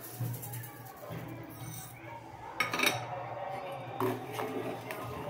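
A spoon stirs rice kheer in a cooking pot, with metallic clinks and scraping against the pot in an ongoing rhythm, close by, and a sharper clatter midway.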